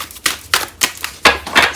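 A Moonology oracle card deck is shuffled in several quick crisp bursts of clicking, riffling card noise, each a fraction of a second long and close to the ear, with no voices.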